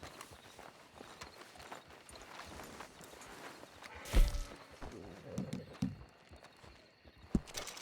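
A horse's hooves pound on the ground in the Red Dead Redemption 2 game world, a soft irregular run of footfalls that swells into a sharp heavy thud midway, then continues in scattered clops at moderate distance.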